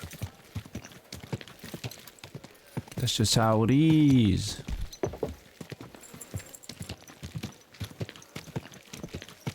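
Rapid hoof clip-clops patter throughout in the video game Kingdom Come: Deliverance II while someone talks over them, with a loud horse whinny rising in the middle.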